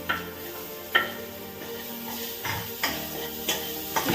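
Onions fry in a pan for a palak gravy, a soft steady sizzle broken by a few separate stirring scrapes and taps, close and fairly quiet.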